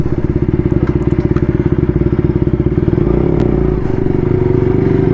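Motorcycle on a road from Haldia to Kolkata, its engine thumping in a fast, steady beat up close, loud and alone, smoothing into a continuous drone in the last couple of seconds.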